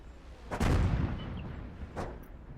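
World of Tanks cannon fire: two heavy, booming tank gun shots, the first loud and reverberant, the second softer and about a second and a half later, over quiet background.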